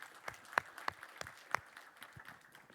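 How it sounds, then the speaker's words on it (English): A small audience at a technical conference session claps for the speaker, a sparse scattering of individual claps with a few sharp, close hits, thinning out toward the end. "a round of applause for Maksim"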